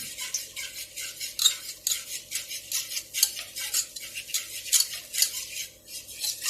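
Steady scraping and stirring in a pan, a utensil working flour rhythmically into melted ghee for béchamel, close and fairly quiet, with no talking.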